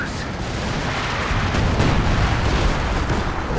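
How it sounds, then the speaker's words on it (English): Airburst artillery shells exploding in Company of Heroes 2 during a 3v3 match, a continuous rumbling barrage of heavy booms blending into a loud, dense wash of blasts without talk. "the airburst artillery coming in there"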